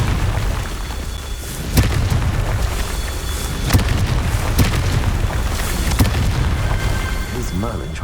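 Spell explosions from the Confringo curse in the Hogwarts Legacy video game, several booming blasts and pops over a dense, continuous layer of game sound, loud and close.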